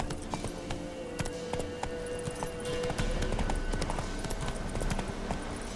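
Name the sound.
horse galloping, from the video game The Witcher 3: Wild Hunt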